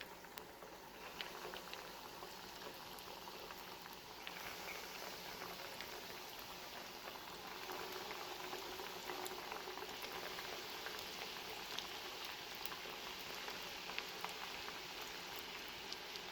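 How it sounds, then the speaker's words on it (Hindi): Potato cheese balls frying in hot oil, a steady close crackling sizzle with dense bubbling patter that holds evenly throughout and grows slightly fuller partway in, with no talking. "ऑयल गरम हो चुका है। अब इसमें ये एक एक करके बॉल्स ऐड कर लेंगे।"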